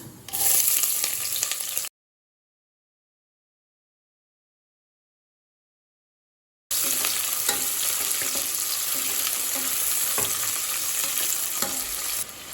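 Two onions frying in oil with a little ghee, cinnamon, bay leaves and fennel seeds for egg biryani, stirred in the pan; a steady crackling sizzle with scraping, broken by a long silent gap before the frying resumes.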